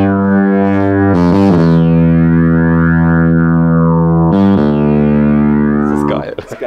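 A Yamaha YDS-150 digital saxophone plays through sound effects, long loud sustained notes with a buzzy, distorted tone and sudden pitch shifts, then a brief rattle at the end.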